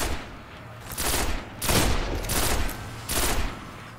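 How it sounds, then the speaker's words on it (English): Gunfire in the video game Destiny rattles in several bursts of rapid shots over a few seconds, moderately loud with no speech over it. "Nice shot, IG"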